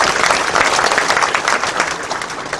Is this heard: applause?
yes